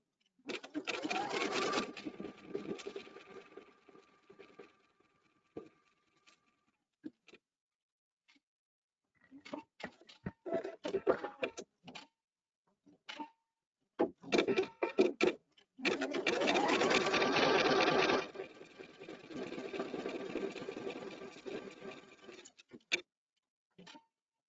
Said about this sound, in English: when it does the satin stitching around the edges, it will have something to stitch into